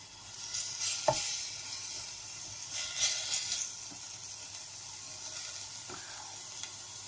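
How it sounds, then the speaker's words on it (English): Onions fry and soften in a pan with a soft, even sizzle, fairly faint, punctuated by a few light stirring clinks. "The onions are nicely softening."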